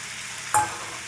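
Chickpeas tipped into a hot pan of papaya curry, a sudden sharp sizzle and clatter followed by a steady low frying hiss with stirring, close and alone.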